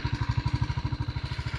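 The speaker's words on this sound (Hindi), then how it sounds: "जब मैं इसको लो स्पीड के अंदर स्टार्ट करता हूँ ना बाइक को, ये देखना जो उसका साउंड है" A TVS Apache RTR 310 motorcycle engine idling at low speed, with a fast, even putt-putt thump pulsing close by.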